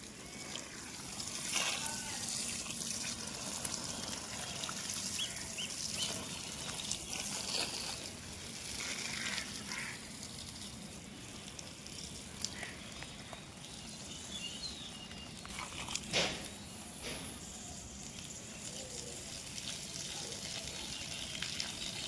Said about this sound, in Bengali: ওইখানে যে গাছগুলো দেখছেন জল দিচ্ছি